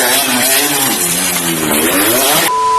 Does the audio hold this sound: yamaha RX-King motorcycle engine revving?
yes